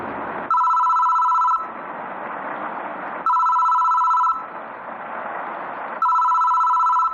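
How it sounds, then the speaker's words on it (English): A telephone rings in the horror game Death Mark, three loud, close electronic ring bursts spaced a few seconds apart over a low droning ambient background, with no talking. "There's a phone ringing for some reason."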